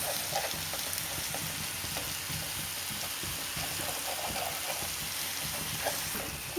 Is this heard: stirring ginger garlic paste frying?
yes